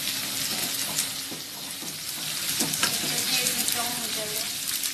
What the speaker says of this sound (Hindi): इसे मुझे फ्राई करना है